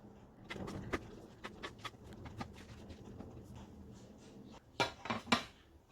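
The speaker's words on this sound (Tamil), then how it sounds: "இப்போ நாங்கள் அகப்ப பொடி ஒன்று எடுத்து கொஞ்சம் நல்லா கிளறி விடுவோம்" Cooked rice being stirred in a pot with a ladle, soft scraping and scooping strokes with a few louder metallic clinks of the ladle against the pot near the end.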